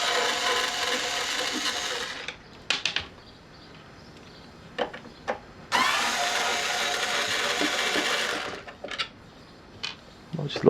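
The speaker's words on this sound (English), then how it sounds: "there's 4 screws that's got to be removed. So let's do that now." A powered screwdriver removing screws from a Halfords Ring Powerpack 200 casing, with two long whirring runs separated by short clicks, clatters and handling knocks, close and fairly quiet.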